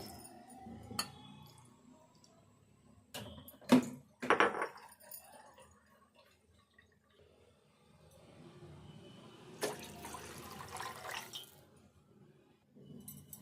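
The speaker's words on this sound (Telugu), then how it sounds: "ఇదే కప్పుతోటి వాటర్ వేసుకోవాలి" Water poured from a cup into a pot for semiya payasam in a home kitchen: two splashing pours, a short one and a longer one, near and fairly soft, with quiet clinks of utensils between them.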